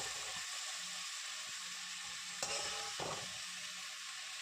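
Whole spices and small fish fry in a wok, a soft steady sizzle with a few quiet stirring scrapes and clinks, fairly faint and close.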